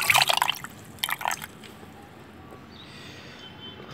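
Water poured into freshly squeezed lemon juice, with soft splashing drips at first, then a quiet, steady trickle.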